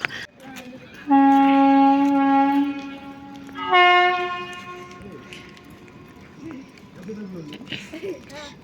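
A train passing at speed sounds two long horn blasts close by, then its rumble fades as it passes, with voices faintly audible in the background.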